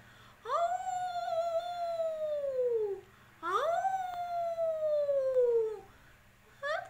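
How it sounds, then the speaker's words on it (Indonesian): A wolf howling: two long, clear, mournful howls that rise and then slowly fall in pitch, each lasting a few seconds, followed by the start of a third, loud and fairly close against a faint low hum. "Sepertinya ada serigala."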